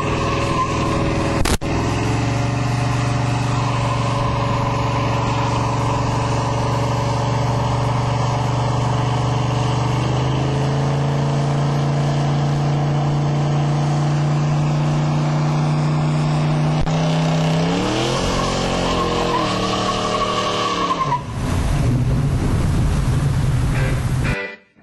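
The 454 V8 in a 1971 Chevy Cheyenne C10 automatic pickup roars steadily during a burnout, loud and sustained, then rises sharply in pitch and cuts off abruptly at the end.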